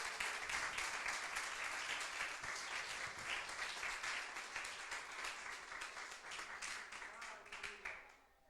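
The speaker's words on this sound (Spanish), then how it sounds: "Den un fuerte aplauso al Señor en esta noche" A church congregation claps steadily at an evening service, a dense, sustained wash of applause that gradually thins and fades toward the end.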